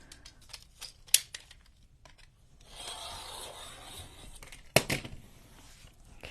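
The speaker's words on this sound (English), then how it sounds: "So I'm gonna cut it at 9." Scissors snip through fabric being cut to size for a journal cover, a few sharp cuts followed by a steady rasping slide of blades through cloth, close and fairly quiet, with no talking.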